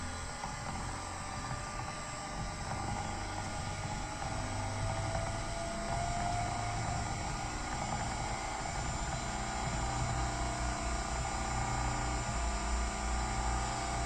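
A three-phase synchronous generator runs steadily at 1800 RPM, a constant loud mechanical hum and whine with a rumbling low end, unchanging throughout.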